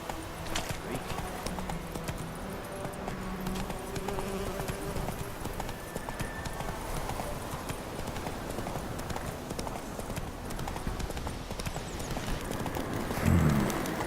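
Horse Roach's hooves clip-clop steadily at a gallop in The Witcher 3, a continuous rhythmic patter under a busy game soundscape with music, with a brief louder bump near the end.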